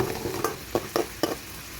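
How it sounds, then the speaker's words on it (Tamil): Onions sizzle steadily in hot oil, with a few sharp scrapes of a spoon stirring the pan, close and fairly loud. "எண்ணெய் சூடானதும் நறுக்கி வச்ச ஒரு வெங்காயத்தை போட்டு நல்லா வதக்கிடுங்க."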